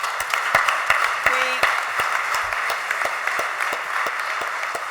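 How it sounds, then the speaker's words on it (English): Audience applause fills a Philadelphia City Council stated meeting chamber, loud and sustained, with sharp individual claps standing out near the microphone amid the broader crowd and a brief tonal sound partway through. "Let's give them a round of applause"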